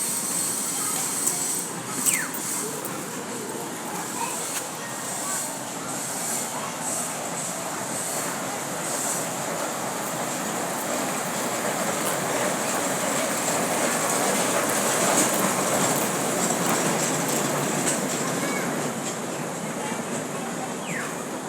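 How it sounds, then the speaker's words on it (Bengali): A small children's park train running on its miniature track, a steady, moderately loud rolling rumble and hiss that continues throughout with faint clicks. "পার্কের ভিতরে যে ট্রেন আছে ট্রেনটা আপনাদের দেখাবো"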